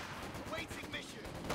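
Gunfire from Company of Heroes 2, a machine gun in a 2v2 match, with bursts and shots crackling through dense battle noise under continuous talk.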